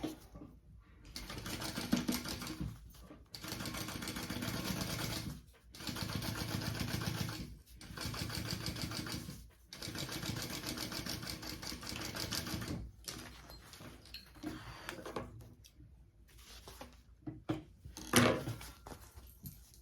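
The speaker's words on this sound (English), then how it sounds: "I'm going to top stitch along this side panel piece." Sewing machine topstitching along the side panel of a crossbody bag, running in a series of steady whirring bursts of a few seconds each, separated by short pauses and followed by scattered handling clicks and rustles near the end.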